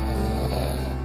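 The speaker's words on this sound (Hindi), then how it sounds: "ये तो किसी की खर्राटे की आवाज़ है।" Loud, deep snoring in a forest, a brief rumbling rasp heard alone.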